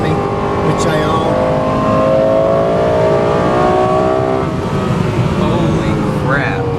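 The V10 engine of a Lexus LFA supercar, heard from inside during a ride along, holds a loud, steady, high-pitched roar with rising tones, while people talk over it.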